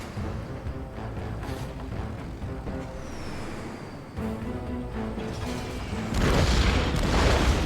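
Explosions from a bombing run in the Red Alert 3 strategy game rumble under busy battle noise, ending in a louder, broad burst.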